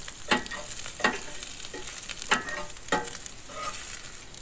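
French fries fry on a griddle under a continuous sizzle, with a spatula scraping and turning them in several distinct strokes, close up with no voices.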